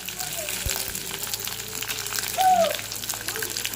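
Onions frying in a pan make a steady, close sizzle that runs throughout, with faint stirring and a brief squeak partway through.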